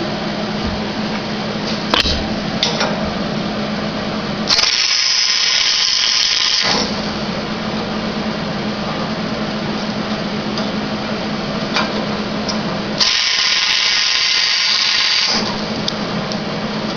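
Tack welding inside a steel pipe during a hitch table modification, with two steady crackling welding bursts of about two seconds each, close and fairly loud, separated by quieter shop background and light handling clicks.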